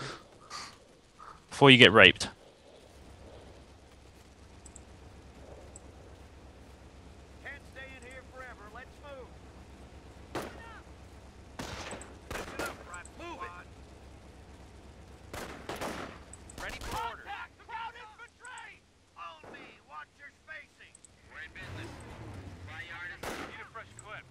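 German MG crew machine-gun fire in the WWII strategy game Company of Heroes: scattered short bursts and single cracks, one loud near burst early, mixed with a voice and other battle noise.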